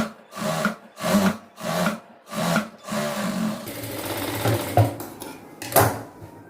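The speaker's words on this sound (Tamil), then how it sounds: "ஜாயின் பண்ண அப்புறம் ஓப்பன் பண்ணி நம்ம படிமான தையல் போட்டுக்கலாம்" A sewing machine runs a seam along a blouse lining in short repeated bursts, each a few seconds of steady whirring with brief pauses between, close and fairly loud, followed by a longer continuous run with a few sharp clicks.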